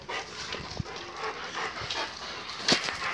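A guard dog, a female bull-headed breed, gives a few scattered short barks and yips against a noisy background, with no talk.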